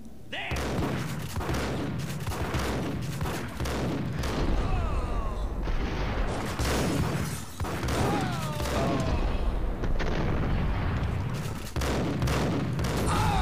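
Dense, rapid gunfire from a Max Payne gunfight, with bursts of shots and booms overlapping continuously and loudly throughout.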